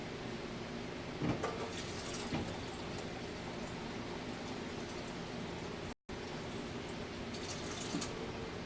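Tap water runs steadily into a measuring cup for a frozen caramel frappuccino, a continuous close splashing wash with a couple of brief louder pours and a momentary cutout.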